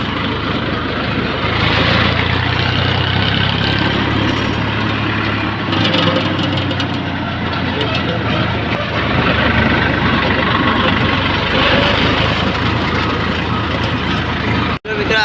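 A tractor engine runs steadily while hauling a load, a loud, continuous low rumble that holds throughout with little change, ending in a brief sharp break near the end.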